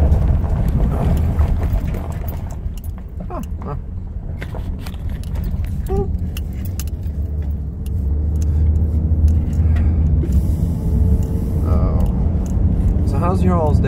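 A car rolls slowly over a bumpy gravel driveway, with steady low engine and road rumble, wind buffeting and scattered crunching and knocks throughout; a person talks over it.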